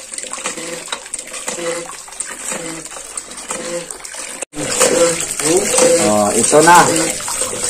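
A newly repaired hand water pump gushes water in loud, splashing bursts, starting intermittently and then running strong and continuous after a brief pause, close by, with a person speaking briefly over it.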